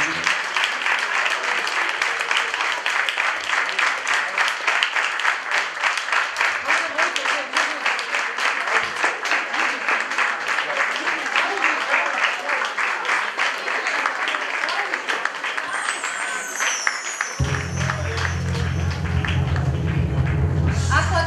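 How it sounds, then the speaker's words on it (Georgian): Loud, sustained applause from a large audience at a children's concert, dense clapping running steadily throughout, joined near the end by rising music. "დიდი აპლოდისმენტები, ძალიან თქოთ."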